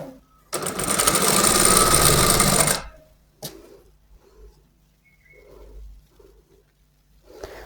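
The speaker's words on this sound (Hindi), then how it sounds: "दोनों कपड़ों को बराबर रखते हुए हम सिलाई लगाएं।" A sewing machine runs in one steady, loud burst for a couple of seconds while stitching trouser fabric, then stops. Faint knocks and soft background sounds follow.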